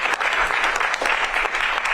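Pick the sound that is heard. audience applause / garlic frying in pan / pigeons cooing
audience applause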